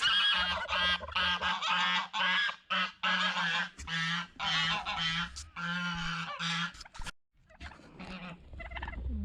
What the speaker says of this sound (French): Mais et oui, les oies, ça a une réputation.